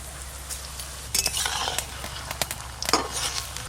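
Food fries in a pan in a home kitchen, a steady soft sizzle with a few louder bursts of stirring and utensil scrapes.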